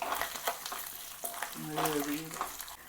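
Ginger paste sautés in a pan for pav bhaji, giving a quiet sizzle and stirring scrapes with a brief faint voice in the background.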